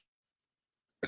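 A woman gives one short, close cough after a second of near silence, a single sharp burst with no talk around it.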